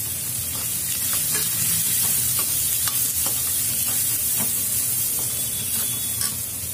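Vegetables frying with salt, chilli, turmeric and coriander in a pan for vegetable dalia, a loud continuous sizzle with regular scraping strokes of stirring, close up.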